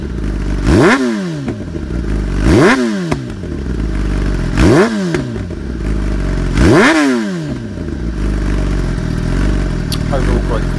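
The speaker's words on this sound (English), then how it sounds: "I've warmed the bike up and I'm ready to take it out for its first test ride" A Kawasaki ZX10R motorcycle with the stock exhaust valve removed, ridden close by, rising and falling in pitch through four repeated rev-and-shift cycles over a steady loud engine drone.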